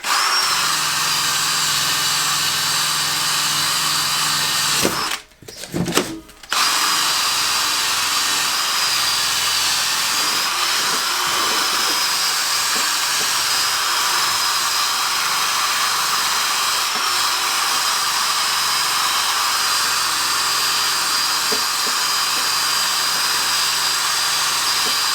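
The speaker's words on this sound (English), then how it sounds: "we'll use a Scotch-Brite brush without anything particularly aggressive on it" A drill fitted with a Scotch-Brite brush whirs steadily against an aluminium motorcycle part, close and continuous for over twenty seconds, with one brief stop and restart near the start.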